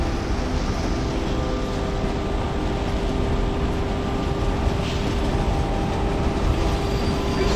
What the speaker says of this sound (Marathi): local is arriving shortly on platform number 1